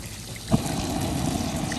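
Water pours into a pressure cooker pot while cooking a stew, a soft continuous trickling splash starting after a small bump, fairly quiet and alone.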